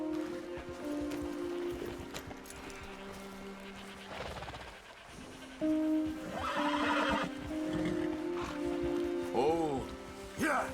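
Horses whinny in Red Dead Redemption 2, a game scene on Guarma, with repeated neighs and close hoof clatter over a steady ambient game soundtrack and bed of noise.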